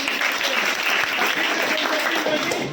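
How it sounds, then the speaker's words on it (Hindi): Thick, steady applause from a crowd celebrating final selections for police sub-inspector posts, close and continuous with no pauses throughout. "एक बार पुनः जोरदार ताली"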